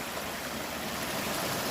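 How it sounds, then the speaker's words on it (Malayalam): A cold mountain stream in Kerala trickles and runs over rocks close by, a steady broadband wash of water with no pauses and no voices over it. "അപ്പോൾ അവിടെ നിന്ന് ഇതെങ്ങനെ ഒലിച്ചിറങ്ങി വരുന്നുണ്ട് കേട്ടോ വെള്ളം"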